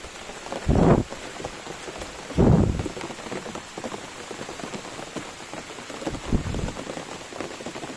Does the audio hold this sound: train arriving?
no